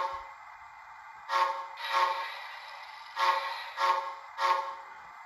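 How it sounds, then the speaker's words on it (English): Several short toots of the steam whistle from an HO-scale Bachmann Spectrum 4-6-0 locomotive's DCC sound decoder sound in quick succession, close and clear, with no talking. "F3 is your short whistle."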